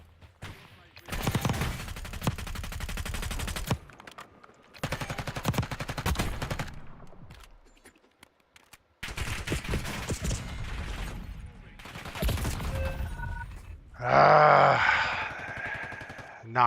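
Bursts of video game gunfire, several separated volleys of rapid shots with brief pauses between them, mixed with other game sounds and a voice speaking at times.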